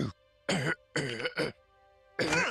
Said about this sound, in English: I knew you were going to cough in his face.